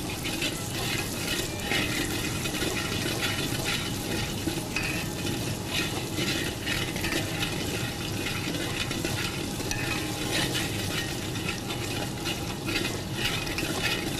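Shredded meat sautés in a pot with garam masala, salt and fried onions, giving a steady dense sizzle with scattered stirring scrapes throughout. No voices are heard.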